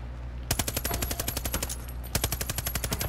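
A gun in Far Cry Arcade fires in two rapid automatic bursts, loud and close, each shot a sharp crack in quick even succession with a brief gap between the bursts.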